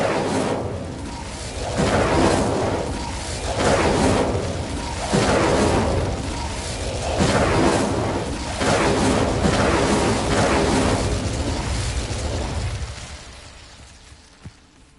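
Incendio fire spell in Hogwarts Legacy, a series of loud whooshing fiery blasts in a rhythmic sequence of about six bursts before fading out, with no speech.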